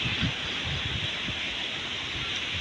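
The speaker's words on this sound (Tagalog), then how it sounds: "Kasi malakas ang hangin, oh." Strong wind gusts rush steadily around a rural dwelling with trees and bamboo nearby, a continuous broad hiss with faint low rumbles, no voices.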